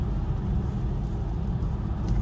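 A BMW i4 M50 electric car cruises on a highway in regenerative B mode, heard from the cabin as a loud, steady low road rumble and tire roar with no voices.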